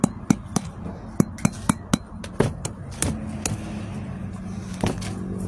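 Frozen Black Thorn durian is tapped with a hard tool to loosen it, giving a quick series of sharp, close knocks that slow and become irregular toward the end.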